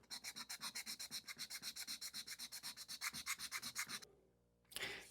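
Hand sanding a flat repair patch on an Alpha Citation aircraft, a steady back-and-forth rasping in about two dozen even strokes, close and clear, then stopping with a brief rustle at the end.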